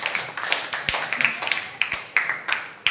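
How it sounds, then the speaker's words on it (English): Children in a classroom clap in a loose, uneven burst of distinct nearby hand claps rather than a smooth roar, each clap sharp and separate. "Give a huge round of applause for Captain America."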